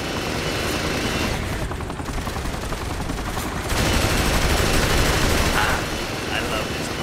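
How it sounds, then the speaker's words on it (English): Rapid video game gunfire aimed at a helicopter, bursts of shots over a constant rotor-like roar, loud and dense throughout with a louder stretch midway. "Shoot the helicopter! Use whatever you've got!"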